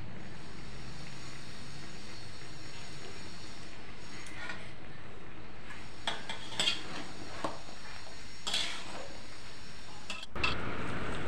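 Fried peanuts and coconut are stirred in a pan with soft scraping and occasional light metallic clinks from the utensil, quiet and close over a faint background hiss.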